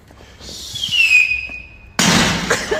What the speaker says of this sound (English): There fireworks going on or something?